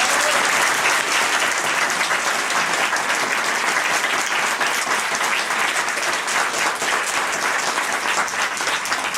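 A crowd at a Mexican university cultural event applauds loudly and steadily, with dense clapping that holds at a consistent level for about nine seconds.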